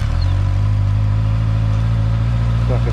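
A 2020 Honda CBR 650 sport motorcycle engine runs steadily after restarting from a stall, a loud close mid-pitched idle with a constant throbbing drone and a slight rise near the end.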